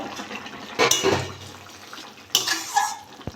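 A lid goes onto a pan of silver calf fish curry with two quick metallic clanks about a second and a half apart, set against a quiet kitchen background.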